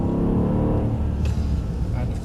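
A Mercedes car driven on a track, its engine giving a loud, steady rumbling drone that eases slightly toward the end of a short passage.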